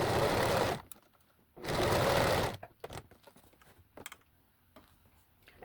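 A sewing machine stitches through layered sweatshirt fabric in two loud, steady bursts of whirring, followed by scattered clicks and small handling noises.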